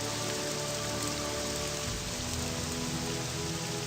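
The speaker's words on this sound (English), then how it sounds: "let me lower the sound of the rain." Steady rain from the video game Morrowind pours without a break, a dense, even hiss of drops on surfaces that stays unchanged throughout, with no voices.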